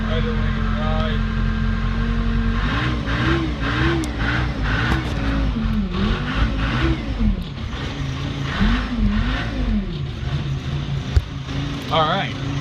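A Case backhoe diesel engine runs rough just after a cold start, a loud steady idle with wavering, surging pitch and clattering throughout, while people talk over it.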